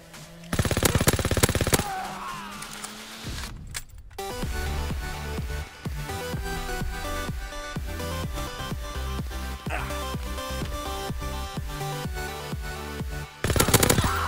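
The Wunderwaffe wonder weapon fires in Call of Duty WW2 zombies, giving loud bursts of dense crackling electrical discharge broken by short gaps, with game effects between the shots.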